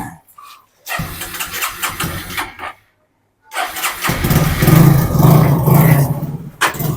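A motorbike engine cranks and catches nearby, falls silent for a moment, then starts again and settles into a steady, throaty rumble.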